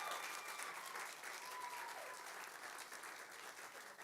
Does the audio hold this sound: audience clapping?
yes